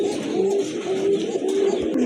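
A pair of large pigeons coo softly and repeatedly up close, low rolling calls in a steady rhythm with light rustling behind.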